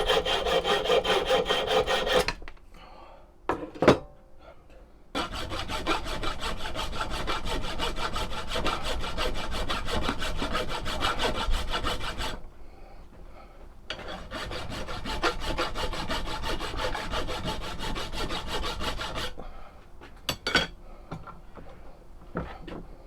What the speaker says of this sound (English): Keep filing around the corners, get a rough circle, won't take long.